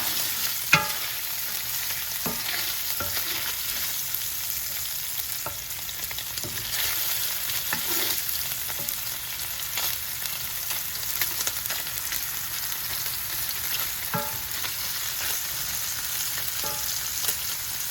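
Turkey sausage browns in a pan with a constant, even sizzle throughout, broken by occasional scrapes and clicks as it is stirred, close and steady with no talking.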